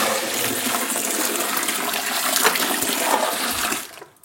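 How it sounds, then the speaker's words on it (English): A bucket of hot water pours into a container to fill it, making a loud, steady gush that holds for several seconds and then quickly tapers off and stops. "now I'm back with a third bucket of water to fill this thing over the top"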